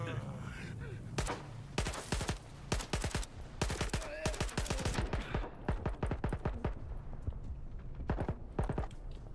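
Gunfire in the video game S.T.A.L.K.E.R. 2: sharp shots in rapid irregular bursts, some quick automatic strings, moderately loud over a low ambient hum, with someone talking now and then.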